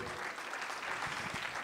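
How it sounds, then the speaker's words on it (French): Brief burst of audience applause at an award presentation, a dense, moderately loud patter of many hands clapping that continues steadily throughout. "je crois qu'on peut l'applaudir"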